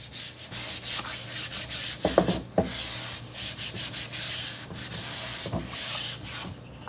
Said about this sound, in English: first thing I'm going to do is to sand this with some 150 sandpaper just to smooth this